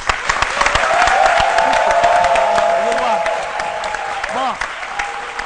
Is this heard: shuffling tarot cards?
no